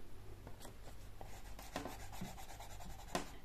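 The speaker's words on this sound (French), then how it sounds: "je vais commencer à gommer tous ces coups de crayon qui sont quand même assez prononcés" Soft rubbing of an eraser over pencil lines on a bullet journal page, faint, close and scratchy, in short uneven strokes with no talking.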